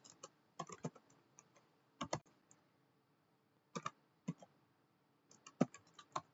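Quiet, close keystrokes on a computer keyboard as Linux terminal commands are entered, coming in short irregular bursts of clicks separated by silent pauses.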